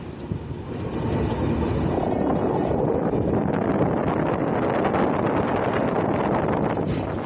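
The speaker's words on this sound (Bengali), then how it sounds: "বিশেষজ্ঞদের পরামর্শে গতি কমিয়ে এখন ঘন্টায় 20 কিলোমিটার গতিতে ট্রেন পার হচ্ছে" A train rolls slowly, at about 20 km/h, across the nearly 5 km Bangabandhu Jamuna Bridge over the Jamuna River. It makes a steady, loud, continuous rumble mixed with wind buffeting, with no talking.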